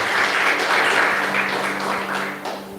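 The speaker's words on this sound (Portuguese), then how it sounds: "Você pode aplaudir ao Senhor?" Church congregation applauding during a Portuguese-language sermon, a dense steady wash of clapping for a few seconds, fairly loud and close, with a low hum beneath and no clear speech over it.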